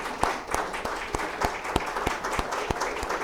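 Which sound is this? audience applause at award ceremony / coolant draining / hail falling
audience applause at award ceremony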